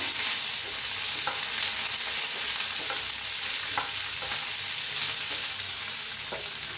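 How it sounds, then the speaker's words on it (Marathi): Curry leaves and fresh mint roast and sizzle steadily in a pan for amla chutney, a continuous frying hiss with occasional stirring scrapes and clicks throughout. "कढीपत्ता कढीपत्ता मी टाकूया पुदिना घेतला एकदम ताजा त्याला मी हलवून घेऊया"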